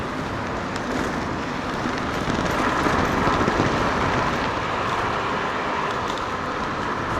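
Steady broadband roar of road traffic and wind heard while riding an electric scooter at car speed along a busy urban expressway at dusk, a continuous rushing wash with no talk.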